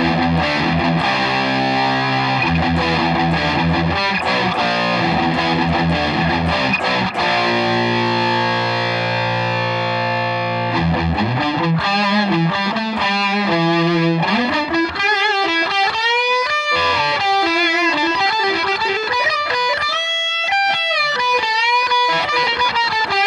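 Monoprice Indio electric guitar played through heavy distortion, dense sustained chords giving way to a fast run of bending single-note lines, loud and continuous with no talking.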